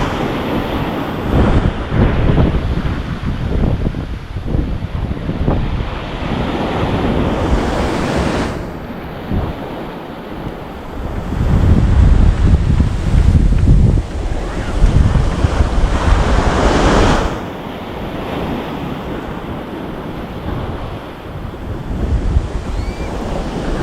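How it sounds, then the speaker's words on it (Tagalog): Big ocean waves crash and roll continuously close by, with heavy wind buffeting the microphone. The surf surges and swells louder in several long waves. "Lalaki ng alon."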